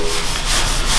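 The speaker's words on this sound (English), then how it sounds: "You can hear in the background sanding going on" Steady abrasive sanding during bodywork on a 1978 Toyota FJ40 aluminum restoration, a continuous rasping hiss with slight rhythmic swells as the sander works the panel, loud and close with no speech.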